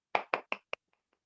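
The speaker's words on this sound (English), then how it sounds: "Please can we give a massive clap for Emeze?" A few claps ring out, four sharp ones close together and then fading quickly to faint taps, like a small group starting and stopping.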